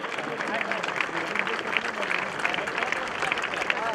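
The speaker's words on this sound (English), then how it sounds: "Can I have a huge round of applause for Mr. Yash Dongre?" Audience applause for an athlete at a summit inauguration ceremony, a steady dense patter of many hands clapping throughout, moderately distant, with voices mixed underneath.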